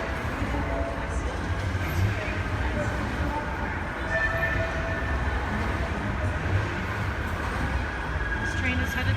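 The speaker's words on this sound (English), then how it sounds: "This train is headed to Bury," A train bound for Bury, near Manchester, rumbles steadily along with a constant low roar and faint rattling, loud and close throughout, as if heard from inside a carriage.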